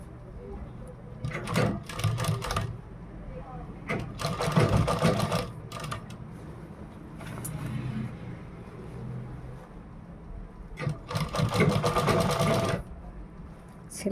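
A sewing machine stitches a blouse in repeated close bursts of rapid mechanical whirring, pausing between runs, with a voice talking quietly in the gaps.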